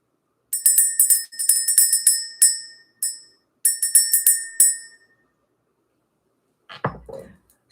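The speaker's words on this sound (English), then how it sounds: "Let's ring the bell." Small bell rung in bursts of rapid bright rings during spiritual energy clearing, clear and close, with pauses between runs and a brief low thump near the end.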